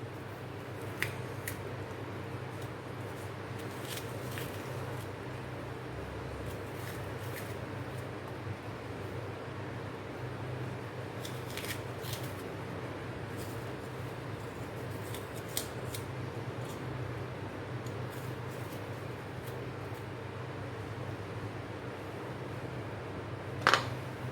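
Snake gourd being cut in two with a knife, with quiet repeated snipping and crunching cuts close by over a steady low background hum and no talking.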